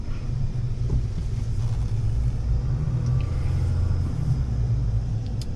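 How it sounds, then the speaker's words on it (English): A 2024 Chevy Silverado ZR2 diesel pickup with a factory 3-inch lift accelerates on an off-road trail, its deep, steady engine rumble droning continuously from close by with light wind buffeting. "We'll give it some gas, see how it performs."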